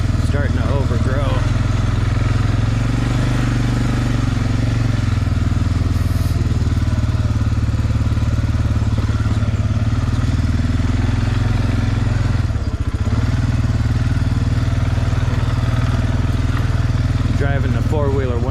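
A four-wheeler ATV driving along an overgrown, little-used trail, its engine droning loud and steady throughout with slight changes in pitch, close to the rider.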